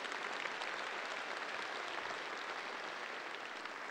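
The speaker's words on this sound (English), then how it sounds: "Let's give them a big round of applause for that breed." Crowd applause at a dairy cattle show for the Red & White breed at World Dairy Expo, a dense, continuous roar of clapping from a large arena audience with no talk.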